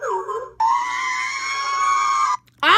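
A soundboard scream effect blares out in one long, loud, strained shriek lasting nearly two seconds, framed by brief higher-pitched vocal sounds just before and after.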